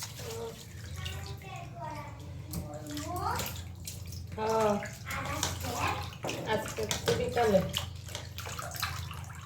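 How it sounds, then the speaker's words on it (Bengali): Running water from a tap as fish are washed clean, a steady rush under a voice talking throughout. "মাছগুলো ওইদিকে পরিষ্কার করে ধুয়ে নিলাম"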